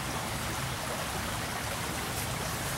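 A flooded creek rushes in a continuous, steady roar of flowing water, full and close with no pauses.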